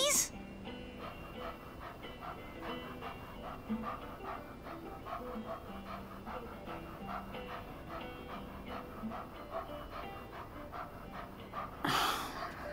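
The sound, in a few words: puppy panting in the video game Life is Strange 2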